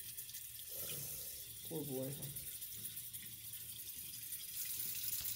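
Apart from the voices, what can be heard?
warm tap water running over a baby snake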